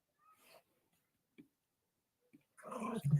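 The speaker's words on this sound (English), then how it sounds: "dogs are going nuts." Agitated dogs make a short burst of whimpering, growl-like sound that breaks in only near the end, after a long stretch of near silence.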